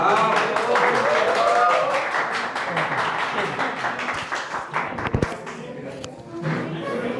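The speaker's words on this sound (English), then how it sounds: "Give a big hand. So, this clapping indicates they regard you as a competent presenter" Classroom applause for a presenter at a university lecture, a dense, steady patter of many hands that thins out after a few seconds, with a voice talking over it toward the end.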